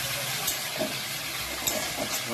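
Spice tempering (phoron) sizzles steadily in hot oil while being stirred, a continuous close hiss with a few faint scraping knocks, for a Bengali dish of noter shak (amaranth greens) seasoned with salt and a little sugar.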